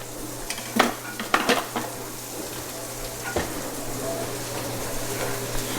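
Boiled beans drained for home canning in a kitchen, with clattering pot and utensil knocks, scraping and a steady watery hiss and trickle underneath, fairly close and moderately loud, no talking.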